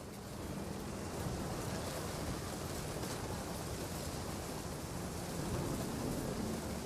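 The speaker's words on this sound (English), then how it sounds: "The thunder sounded much too close and full of angry power." Thunder rumbles amid steady rain in the video game What Remains of Edith Finch, a dense, continuous wash of downpour with low booming swells throughout, no voices.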